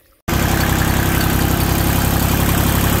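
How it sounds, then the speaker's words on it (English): A farm tractor engine starts up and then runs at a steady, loud, close idle with a constant low rumble, no voices over it. "Okay, we got the tractor going."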